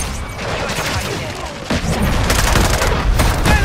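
Grenade blast and automatic gunfire in Call of Duty Modern Warfare 3 multiplayer on the Rust map, dense crackling rifle bursts with a heavy thump, loud and sustained.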